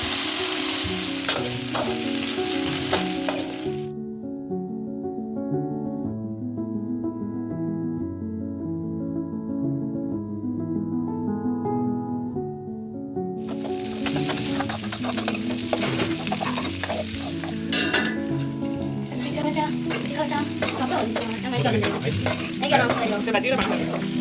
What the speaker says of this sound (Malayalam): ഇനി നമുക്കൊരു ചീനച്ചട്ടി അടുപ്പത്ത് വെച്ച് അതിലേക്ക് എണ്ണയും ഒഴിച്ച് കടുക് പൊട്ടിച്ച് മുളക് ഇട്ട് കറിവേപ്പിലയും ചേർത്തിട്ട് ഇതിലേക്ക് നമ്മൾ കോളിഫ്ലവർ ഇട്ട് ഫ്രൈ ചെയ്തെടുക്കാം